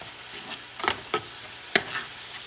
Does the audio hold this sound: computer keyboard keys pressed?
no